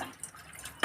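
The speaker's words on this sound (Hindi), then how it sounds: "पानी डालती हूँ पहले इसमें थोड़ा सा।" Water splashes and trickles in short, quiet bursts as a small amount is poured into a pot of cooking saag close by.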